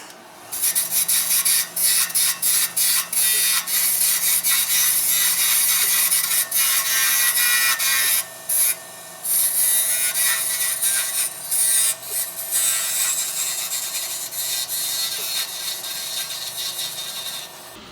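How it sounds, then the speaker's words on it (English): Stainless steel honey dipper end being shaped on a lathe with sharp tools: a steady, loud scraping and rasping cut that runs almost continuously, broken by brief pauses as the tool lifts off. "now I'm going to go ahead and shape that end off,"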